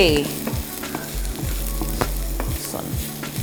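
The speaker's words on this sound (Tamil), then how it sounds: "ஸோ நம்மளோட வெஜிடபிள்ஸ்லாம் நல்லா சார்ட் ஆகிட்டு இருக்குது" Vegetables for paneer jalfrezi sauté in a hot pan with salt added, a steady close sizzle broken by several scraping stirs of a spatula; no voices.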